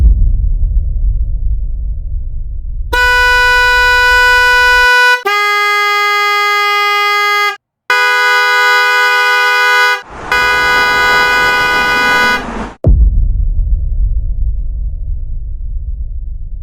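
Hella electric car horn tested: a steady engine rumble drops away as a bright, buzzing horn sounds in four long blasts, the tone shifting between blasts, before the rumble returns.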